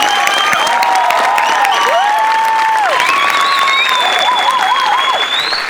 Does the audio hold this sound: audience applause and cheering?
yes